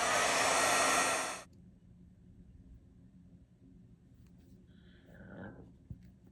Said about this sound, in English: I'm going to hit that with the heat tool again.